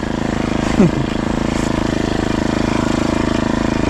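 A grass cutter engine runs steadily and close by, droning at a constant idle-like pitch with a brief rise in loudness near the start, with faint talk under it.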